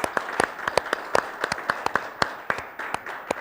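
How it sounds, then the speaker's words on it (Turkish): Brisk, irregular clapping from a small group, a steady patter of sharp hand claps lasting a few seconds with no voices over it. "Ben bunun için, sadece bunun için bir alkış istiyorum Tekin abime."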